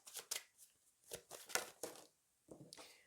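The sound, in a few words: tarot cards being shuffled and laid out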